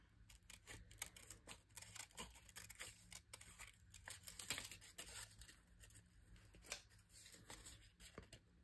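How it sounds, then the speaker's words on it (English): Scissors snipping through paper in quick, uneven strokes, close by, with soft rustling of paper moving between cuts and no talking. "So I'm moving the paper and not my scissors, and it goes a lot smoother and a lot faster."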